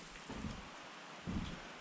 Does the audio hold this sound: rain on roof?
yes